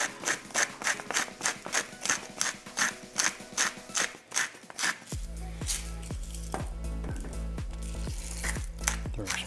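Salt grinder cranking salt for a rib rub, a rapid train of close rhythmic gritty crunches followed by steadier, denser scraping grinding.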